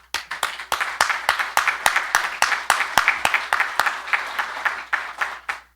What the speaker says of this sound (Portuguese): eu, inclusive, gostaria de pedir uma salva de palmas para